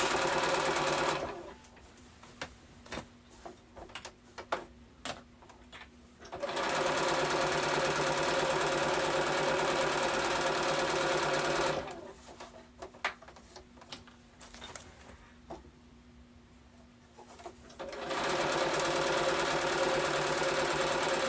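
A sewing machine stitching a straight back-stitched seam on challis fabric for a dress hem, running in two long steady mechanical whirring bursts, close and loud, separated by quieter pauses with faint ticking handling sounds.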